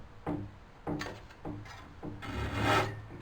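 A flush-cut pull saw cutting wood for a Morris chair, four short rasping strokes in an even rhythm, followed by a longer, louder stroke, close up and with no talking.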